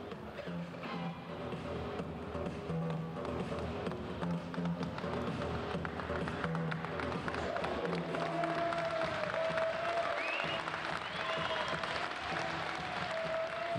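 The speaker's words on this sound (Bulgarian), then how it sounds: "Заслужени аплодисменти за двете кикбоксерки в ринга." Audience applauding for two female kickboxers in the ring at a kickboxing event, a sustained wash of clapping from a crowd filling the hall, with faint cheering mixed in.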